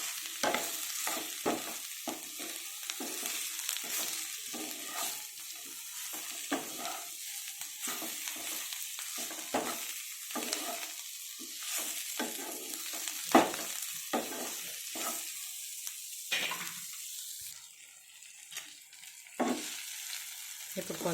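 Bitter gourd frying on a medium flame in a pan, a steady close sizzle broken by repeated scraping and stirring strokes, with the frying hiss fading a little toward the end.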